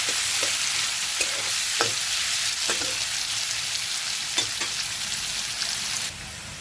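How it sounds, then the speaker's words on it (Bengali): Plantain seasoned with salt and turmeric fries in a pan with a steady, close sizzle, broken by occasional sharp clicks and scrapes of stirring. "কলার মধ্যে একটা নুন আর একটা হলুদ কলাটাকে ভালো করে ভেজে দেবো"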